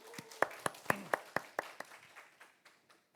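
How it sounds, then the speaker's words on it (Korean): Church congregation at a Sunday worship service clapping in encouragement for a deacon about to recite scripture, a sparse run of about a dozen distinct hand claps that fade and thin out toward the end, with no talking. "우리 집사님 떨지 않고 잘할 수 있도록 박수를 한번 격려할까요?"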